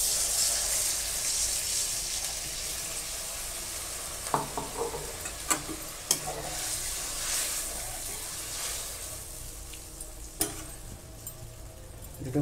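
Fried bhola fish hisses steadily in a pan as mustard paste is poured in, and the oil keeps sizzling throughout. A few sharp clinks and stirring taps cut through the steady frying noise.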